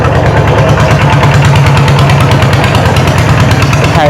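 A farm tractor engine runs steadily up close, a loud continuous rhythmic chugging and mechanical rattle with no pauses.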